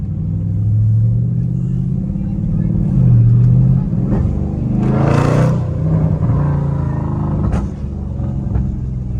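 A Dodge Scat Pack rumbles loudly in traffic, swelling into a brief rev partway through, with someone talking over the steady engine drone from inside the car.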